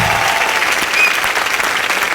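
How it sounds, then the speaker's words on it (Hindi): Loud studio audience applause on a Hindi film-celebrity TV show, a thick, close burst of many hands clapping that holds strong for the whole stretch. "एक बार जोरदार तालियां।"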